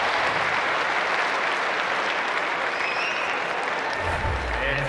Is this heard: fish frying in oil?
no